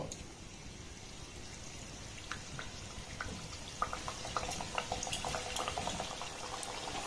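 Wheat-flour biscuits frying in hot oil in a kadai, a steady low bubbling sizzle with scattered crackles and pops growing busier over several seconds, fairly faint and continuous.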